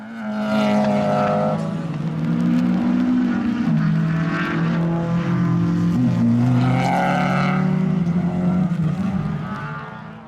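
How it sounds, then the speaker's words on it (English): Rally cars battling on a wet stage of a summer series, engines rising and falling through several revving surges, loud and fairly close, with no voices over them. "now they're battling in the rally cars"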